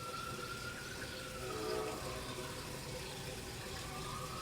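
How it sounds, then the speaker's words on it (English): A household toilet flushes and refills with a continuous rushing, hissing water sound at low volume, steady throughout with a slight swell midway. "Yep, here's another flush."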